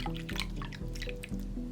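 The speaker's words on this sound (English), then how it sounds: "Then take your other top of potion and fill to the fill line." Water poured into a small toy potion container, with a series of distinct drips and gurgling splashes repeating steadily at close range, no talking.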